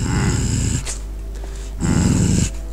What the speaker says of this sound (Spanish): ¿Me estás gruñendo o qué?